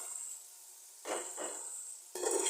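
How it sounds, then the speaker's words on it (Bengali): Raw rice being stirred and fried in a pan for white pilaf, with soft scraping, rustling strokes of a spoon in two quick bursts and then another, over a faint steady sizzle. "2 মিনিট মতো অনবরত নেড়ে নিতে হবে"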